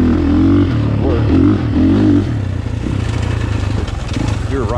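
A KTM 450 Factory Edition dirt bike rides a grown-over woods trail, its engine droning steadily and close throughout with rising and falling revs as the rider rolls on the throttle.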